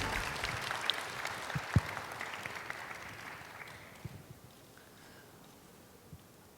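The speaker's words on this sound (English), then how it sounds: "please give our three speakers a big round of applause" Audience applause at the closing ceremony of the 2015 World Leaders Conservation Forum, a burst of clapping that gradually fades over several seconds, with scattered louder claps standing out near the start.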